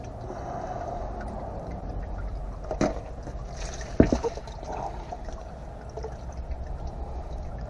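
Hot engine oil pours out of a car's oil filter in a steady, close trickling stream, with a couple of sharp knocks partway through.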